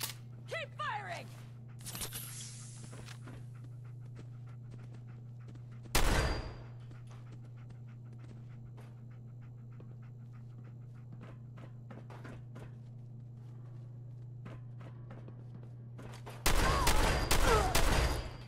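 Weapon fire in Fallout 4, with missile launchers used in enclosed spaces: a single loud blast mid-way, then a rapid cluster of heavy shots near the end, over a steady low hum and scattered footsteps.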